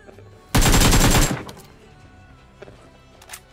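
Rapid automatic gunfire from a weapon in a battle royale video game: one loud, dense burst of shots lasting under a second, followed by faint, scattered noises.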